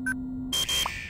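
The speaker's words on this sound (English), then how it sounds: "It's like he set off some sort of alarm in the vault" An electronic vault alarm in the Henry Stickmin game sounds off as a short burst of shrill synthetic beeps and a buzzing tone, loud and close, with no talking.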